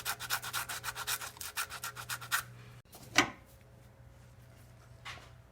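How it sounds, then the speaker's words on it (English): Sandpaper rubbing back and forth on corroded car battery terminals during a no-start repair, a close, fast run of rhythmic scraping strokes followed by a pause, a single sharp knock and a fainter rub. "So just coming in here with a little sandpaper,"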